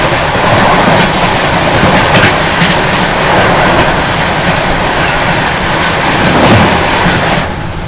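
The Lucknow New Delhi AC Superfast Express passes at a railway crossing, its close, loud, steady roar of wheels and coaches filling the whole stretch before easing slightly at the end.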